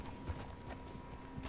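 Horse hooves clip-clop steadily in Red Dead Redemption 2, a faint, continuous patter of muffled footfalls over a low rumble of ambient noise.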